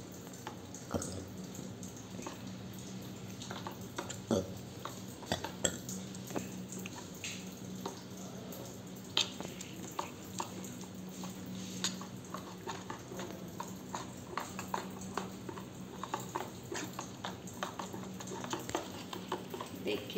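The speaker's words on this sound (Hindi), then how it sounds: "इसको मिक्स करेंगे, अच्छे से फेंट देंगे।" Raw rice batter whisked by hand in a bowl, a steady soft stirring and scraping with faint wet clicks, continuous and close at low volume.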